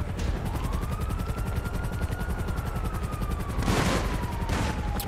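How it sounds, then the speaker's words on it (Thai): Rapid video-game gunfire in a Thai roleplay police raid, a dense continuous stream of automatic shots with a helicopter-like whine sweeping underneath and a louder burst near the end. "เมื่อกี้ยิงยับเลยอ่ะ"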